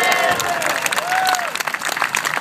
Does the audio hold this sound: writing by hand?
no